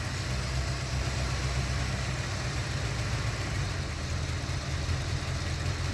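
A Corvette engine idles roughly with a suspected misfire, a steady low rumbling drone with broad hiss, heard close and unbroken for several seconds with no voices.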